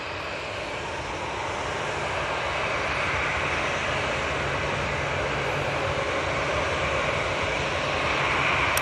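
An easyJet airliner takes off from Manchester Airport bound for Bordeaux, its jet engines producing a steady, broad roar that holds strong and slowly builds across the whole stretch, with no talk over it.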